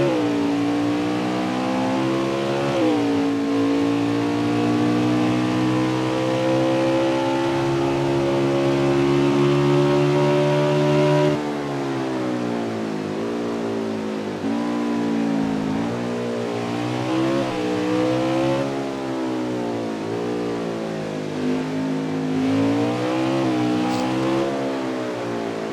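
Xfinity stock car at Mid-Ohio heard from onboard on the final lap, the engine loud and continuous, pitch climbing through the gears and dipping into corners before rising again.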